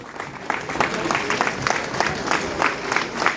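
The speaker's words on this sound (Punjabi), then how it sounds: "ਇੱਕ ਵਾਰੀ ਜ਼ੋਰਦਾਰ ਤਾੜੀਆਂ" Loud, sustained audience clapping fills an award ceremony honouring Nirmal Rishi, with dense, steady applause and faint crowd murmur running under it throughout.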